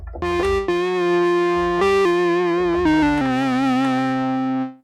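A distorted synthesizer plays a gritty, buzzing melodic line, stepping between sustained notes with a slight wobble, loud and alone.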